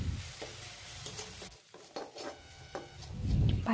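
A wooden-sounding spoon scrapes and stirs a sizzling milk, jaggery and toasted coconut mixture in a hot pan for dudh puli pitha, with repeated close strokes over a steady low bubbling.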